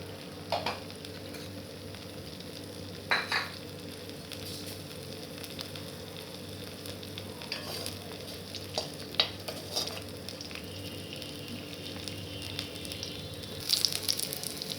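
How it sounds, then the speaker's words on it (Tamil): Mustard seeds and curry leaves splutter in hot oil with a soft, steady sizzle and scattered pops and crackles, fairly quiet and close, with no talking. "கடுகு கருவேப்பிலை நன்றாக பொரியணும்"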